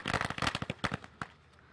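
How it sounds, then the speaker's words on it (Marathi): Firecrackers burst at a cricket tournament in Kolad to welcome a player, a quick, crackling volley of sharp pops at moderate distance that thins out into a few last bangs. "ज्यावेळेस बाहेर आले त्यावेळेस सुद्धा फटाक्यांची आतषबाजी"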